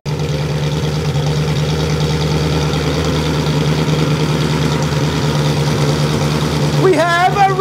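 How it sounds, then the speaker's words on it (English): Ferrari engine running in an Alfa Romeo 105, idling with a steady, loud low rumble close by, as people talk excitedly over it near the end. "We have a running engine!"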